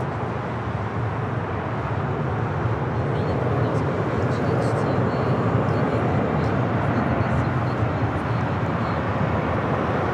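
An Aeromexico Boeing 787-9 Dreamliner touching down on runway 25 left at LAX, a steady broadband roar of jet engines and rushing air that holds constant throughout, moderately loud and distant.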